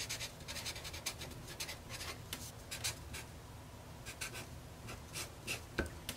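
A pen scratches measurements onto marine vinyl in short, quiet, close strokes and scribbles that repeat steadily with tiny pauses, alone and without talk.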